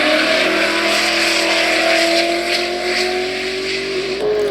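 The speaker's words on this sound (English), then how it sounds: "It's loud for a stock car." A stock car accelerates hard on a time attack lap at a racing circuit, its loud engine note climbing steadily through a gear with a shift near the end.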